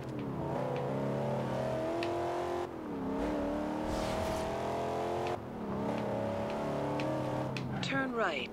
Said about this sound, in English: That was a handbrake turn.